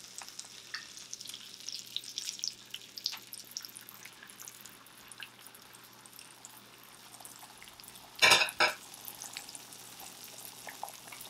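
Egg mixture for a frittata fries in a greased pan with a soft, steady crackling sizzle, and a brief louder clatter near the end.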